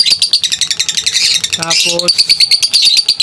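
Pet birds, including misty and split-opaline mutations, chirp and tweet in a steady, dense high chatter throughout, while someone talks over them for part of the time.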